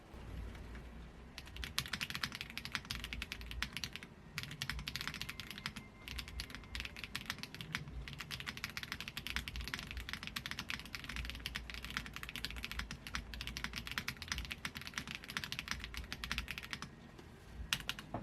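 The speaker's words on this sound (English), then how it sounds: "Okay, this one is using yellow switch. So I'll do a typing test here" Typing on a Royal Kludge RK-H81 hot-swappable 81-key mechanical keyboard fitted with yellow switches, giving a continuous rapid patter of close, crisp keystrokes with no talking.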